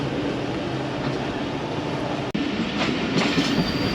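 Pakistan Railway Tezgam express running on its tracks near Rawalpindi after dark, a steady loud rumble of wheels and carriages from on board, with a brief dropout midway and faint rattling clacks toward the end.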